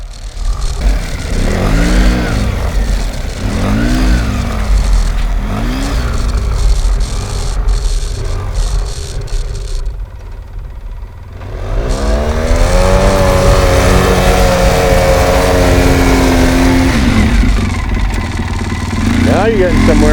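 A Jeep Rubicon in snow revs hard as it climbs and backs up a slope, its engine loud and close throughout, with people talking over it and a brief lull near the middle.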